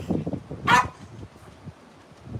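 A pet dog lets out one short bark partway through, fairly close but not loud, against a quiet indoor background.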